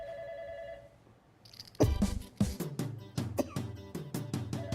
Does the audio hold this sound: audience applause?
no